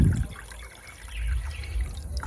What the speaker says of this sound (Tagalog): So mag-add ta og 5 ka cup nga tubig.